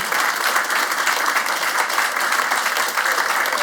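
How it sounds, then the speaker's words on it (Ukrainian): A stand-up comedy crowd applauds in a steady, dense roar of clapping that stays at a constant loud level from start to finish, with no talk rising above it. "це оплески всім людям, які приходили"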